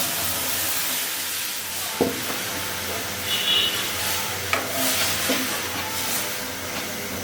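Dal poured into hot oil with cumin paste gives a steady, broad sizzle and hiss in the pan, with a few sharp clinks and stirring knocks breaking through at intervals.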